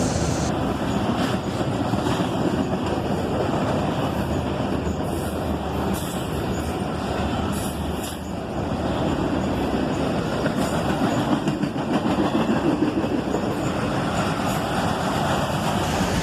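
A CSX freight train rolls by at night, a sustained rumble of wheels and rail cars with faint clickety-clack and occasional squeals, steady and fairly close for the whole stretch, with no talk.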